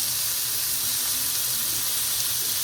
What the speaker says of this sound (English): We'll just sear this off.